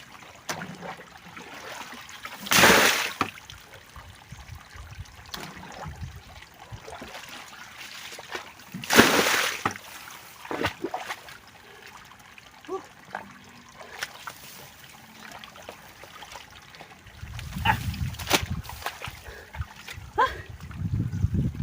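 Water pours and splashes into a hole in a rice field in a few separate bursts, with quiet trickling and outdoor noise in between and a longer gurgling stretch near the end.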